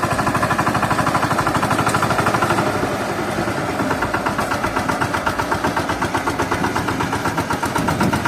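A tractor engine with a plough attached runs steadily nearby during rice planting in Konkan, with a rough, rhythmic chugging pulse, loud and continuous, without any talking.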